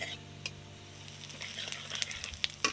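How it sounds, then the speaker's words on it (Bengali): Cumin seeds and asafoetida hitting hot oil in a wok after dried red chillies, a soft sizzle that builds into brighter crackling and a few sharp pops toward the end. "এবার কড়ার মধ্যে দেখুন জিরে দিয়ে দিচ্ছি জিরে দেখুন বন্ধুরা হিং দিচ্ছি হিং"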